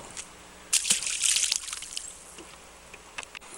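A fish released back into the water while fishing, giving a brief bright splash and slosh, followed by lighter scattered trickles and drips as the water settles.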